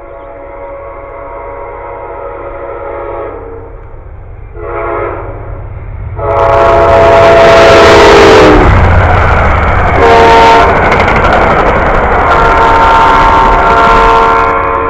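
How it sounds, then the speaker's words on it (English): A loud train horn blares in long sustained blasts while a train rumbles and roars past close by, wheels clattering. "here comes another train."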